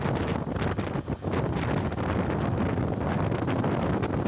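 Steady, loud wind buffeting a microphone, a broad rumbling roar that continues throughout with brief gusty dips.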